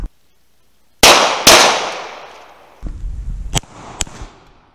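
Two sharp outdoor gunshots fired at a bottle ring out a half-second apart with long decaying echoes, followed by rustling movement and two more faint sharp knocks.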